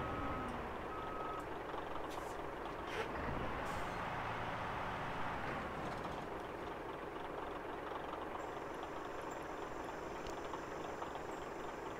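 In the off-road driving game MudRunner, a truck sounds its reversing alarm with steady repeated beeps over a continuous low engine rumble, moderately loud with no talk.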